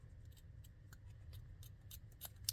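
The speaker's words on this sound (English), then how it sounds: "Really need to sharpen my scissors again." Dull scissors snip through ribbon in a string of soft, crisp cuts, faint and close in a quiet room, with a sharper snip near the end.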